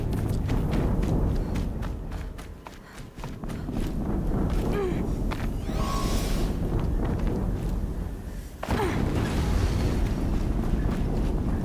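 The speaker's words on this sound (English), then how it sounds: "Another explosion." Explosions rumble through a battle in the video game Horizon Zero Dawn, a dense low roar holding steady for most of the stretch, dipping briefly before a fresh heavy blast surges back in near and loud.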